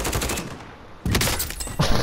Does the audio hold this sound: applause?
no